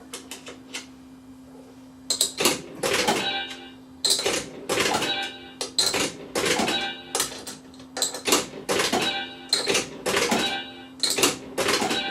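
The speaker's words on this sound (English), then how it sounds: "So I'm gonna pop all those coins in. Oh, I love the sound of them coins." Coins clatter repeatedly into a fruit machine in quick metallic bursts, each drop followed by a brief pause, over a faint steady electronic hum.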